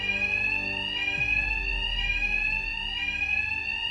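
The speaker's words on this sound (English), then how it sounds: "My attacks will be covered by the noise of the alarm." In Batman Arkham Knight, an alarm blares continuously at a constant pitch and loudness over a deep, droning undertone, and nobody speaks.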